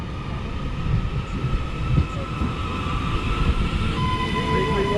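Northern passenger train, unit 331016, pulling into a Merseyside station on the Blackpool North to Liverpool Lime Street service: a continuous rumbling roll of wheels and traction hum with faint high brake whine creeping in as it slows.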